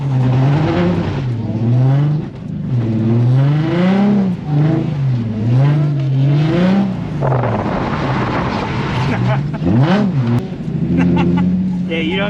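Infiniti G35 drift car engine revving hard on a wet track, rising and falling in repeated rev sweeps that stay loud and close, with people talking over the engine.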